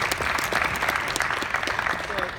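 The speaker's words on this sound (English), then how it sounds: "Okay, round of applause for Simon." Short burst of lively audience applause at a Game Changers event in Melbourne: many hands clapping close and fast, with voices mixed in.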